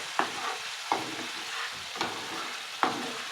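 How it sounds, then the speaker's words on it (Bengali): Ground coriander leaves and green chili paste land in a pan of frying chicken curry, with soft sizzling under a few sharp spoon scrapes and stirring knocks spaced about a second apart. "আমি এবারে সিদ্ধ করা যে ধনে পাতাটা বেটে রেখেছিলাম কাঁচা লঙ্কার সঙ্গে দিয়ে দেবো।"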